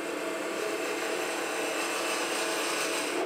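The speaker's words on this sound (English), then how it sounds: "And here's an example of a peeling cut where you bring it up where this cutting edge is" A spindle roughing gouge takes a peeling cut on wood turning on a lathe, giving a steady, even shearing hiss with the motor's hum underneath, continuous and close.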